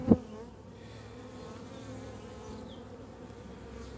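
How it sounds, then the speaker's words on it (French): A steady, dense buzzing of many young honeybees inside a hive fills the air close up, continuous and low, with a brief knock at the start. "Il y a des jeunes abeilles."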